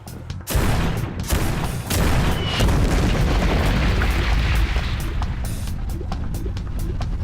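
Artillery fire in the game Persona 5 Tactica: a loud, dense barrage of booming blasts and rapid detonations that erupts suddenly and rolls on continuously, with sharp cracks scattered through the din.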